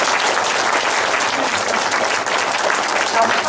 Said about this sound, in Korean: 우리 박수 한번 드리십시오.